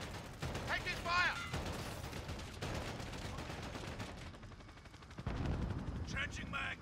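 Gunfire during a Call of Duty: Modern Warfare match: rapid, fairly faint bursts of shots and rattling mechanisms crackling across the scene, with voices talking over the shooting.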